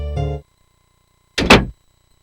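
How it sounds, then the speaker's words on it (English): Two separate knocks or bumps of a door, the second louder and sharper, each alone against silence. "She flings the door open."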